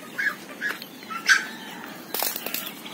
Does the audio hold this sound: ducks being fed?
yes